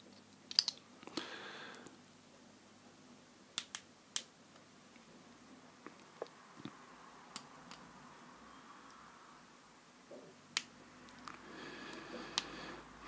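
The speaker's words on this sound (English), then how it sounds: "You carefully cut that away with your knife." Hobby knife paring mould flash from a plastic miniature: a string of sharp, quiet clicks and scrapes, sparse and irregular, close-up with no voices.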